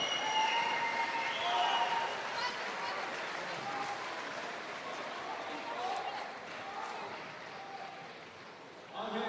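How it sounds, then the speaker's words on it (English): A Cage Warriors 50 MMA crowd cheers and applauds the main event winner, a dense, sustained roar of clapping and shouting that stays fairly even throughout, with voices mixed into the noise. "big round of applause for the winner of your main event, Brandon Hempleman."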